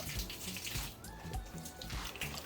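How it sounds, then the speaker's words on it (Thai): Running water rinses plant leaves that had been dusted with dog flea powder, a steady close splashing stream with soft spattering drops and a few brief tonal flickers throughout. "ก็ถึงเวลานะครับล้างใบที่เราโรยแป้ง มัด โรยหมา"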